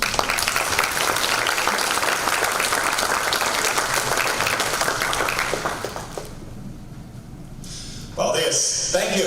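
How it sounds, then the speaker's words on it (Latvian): Audience applause fills an education event hall, loud and sustained for about six seconds before fading, then talk resumes over a fresh swell of crowd noise near the end. "Un aplausu, lūdzu."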